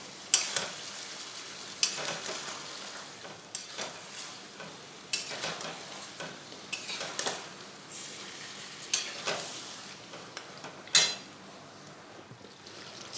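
Spice-marinated chicken fries and is stirred in oil in a pan, giving a steady soft sizzle broken by irregular scraping strokes of the spoon. About eight clear scrapes come over roughly thirteen seconds, with no talking.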